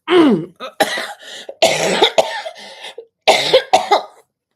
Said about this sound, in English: excuse me, I'm going to cough a lot.